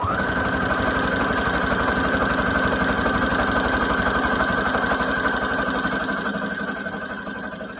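A sewing machine stitches a hem on a junk journal cover made from scraps, running in a fast, steady mechanical chatter that stays loud and close before easing off near the end.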